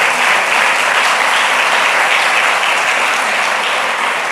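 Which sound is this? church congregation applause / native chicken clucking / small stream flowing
church congregation applause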